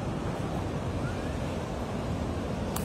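Sea waves wash steadily onto a beach in Goa near a waterfall, a continuous broad roar mixed with wind noise and no talk.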